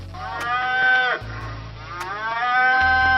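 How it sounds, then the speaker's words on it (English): A cartoon cow moos in a children's animation, two long drawn-out lowing calls in quick succession, loud and close, with a soft backing tone underneath. "Cow."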